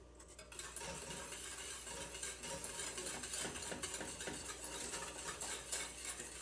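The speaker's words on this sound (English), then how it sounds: "You might be looking at this as you're stirring in the butter" Spoon stirring butter into citrus curd in a pan, a steady close scraping and clinking of utensil against metal with soft wet swishes, continuous for several seconds without speech.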